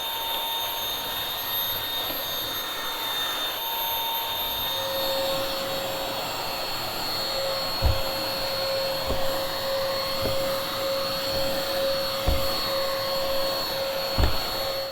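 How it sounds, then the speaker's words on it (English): An Aposen H250 cordless handheld vacuum with its attachments drones steadily while cleaning steps, with a constant high whine and several dull knocks as the nozzle bumps against each stair. "So I just finished vacuuming my steps as well with the 2 included attachments"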